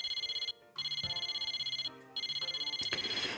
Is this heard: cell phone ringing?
yes